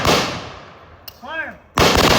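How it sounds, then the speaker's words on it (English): A rifle volley fires at a Memorial Day ceremony: one loud, sharp crack at the start and another at the end. A single spoken command sits between the two shots. "prepare to fire. Present arms. Fire."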